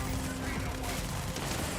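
Sci-fi weapon fire during Starfield space-shooter combat, a dense stretch of overlapping shots and bursts filling the whole moment, loud and continuous with a busy game mix behind it.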